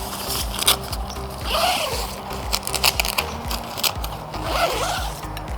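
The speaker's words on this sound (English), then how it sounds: "unzip it for both sides" A Naturehike Butterfly Cross tent is unzipped in several quick zipper rasps and pulls, close and crisp, with rustling fabric between strokes.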